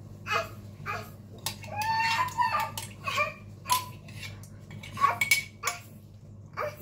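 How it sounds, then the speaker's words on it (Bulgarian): A spoon stirs muffin batter with yogurt in a bowl, giving repeated light clinks and scrapes at an uneven pace. A low steady hum runs underneath, and the sounds are close and fairly quiet. "И разбърквам"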